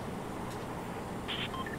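Phone keypad tones from someone tapping on a mobile phone: a few short, faint beeps late in the clip over a low background hiss.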